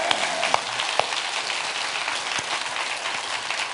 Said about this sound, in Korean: 생사 화복을 주관하시는 우리 하나님 아버지께 박수로 영광 돌리시기 바랍니다.